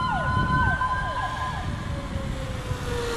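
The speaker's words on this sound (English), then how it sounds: "That's not even a real siren." A wailing electronic toy siren on a Traxxas Stampede RC truck with quick descending sweeps, loud and close over a noisy background, trailing into a long falling tone.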